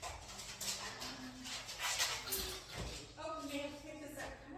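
Dogs at home whimper and give a few bow-wow barks as a package arrives, mixed with close voices talking over them throughout.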